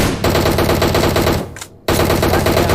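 Rapid automatic gunfire in PUBG Mobile on the Erangel map, loud and continuous bursts that break off briefly near the end before resuming at full intensity.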